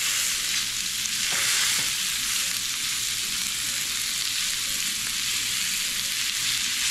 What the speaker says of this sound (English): So it really helps if you take the time to sear this